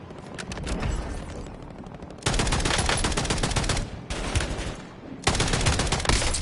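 Bursts of automatic gunfire in Call of Duty: Warzone, loud and close, coming in several long rattling volleys separated by brief pauses.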